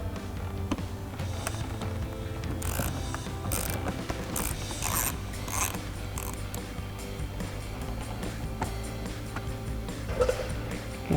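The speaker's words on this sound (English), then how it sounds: "grab our T15 Torx bit and an extension on a ratchet and pop that upper screw off" A ratchet fitted with a T15 Torx bit and extension works a screw loose from a 2005-2013 Corvette taillight, giving a continuous close mechanical clicking and grinding that keeps a fairly even pace throughout.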